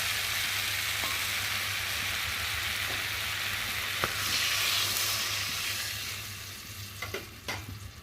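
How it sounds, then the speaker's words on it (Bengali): Chopped kolmi greens and shrimp sizzle in a hot pan as water is added, giving a dense, steady frying hiss with a few spoon clicks and stirring scrapes near the end. "আর এখন আমি পরিমাণ মতো জল দিয়ে দেবো।"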